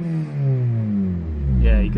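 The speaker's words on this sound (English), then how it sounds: "I'll get a few sort of revs of this." Honda Civic Type R EP3 with a VTEC engine revving, a close, loud engine note sweeping down and back up over two seconds.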